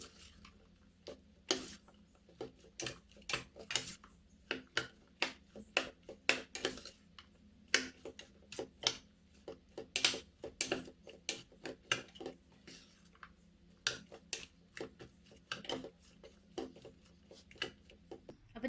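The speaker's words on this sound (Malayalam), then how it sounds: "നമുക്ക് നല്ലപോലെ ഒന്ന് ഇളക്കി കൊടുക്കാം" A ladies finger fry mixture with lemon juice is stirred by hand, producing a steady run of light clinks and taps from a utensil against a bowl, irregular but continuous and fairly quiet.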